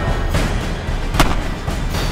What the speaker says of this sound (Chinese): 那边好像有枪声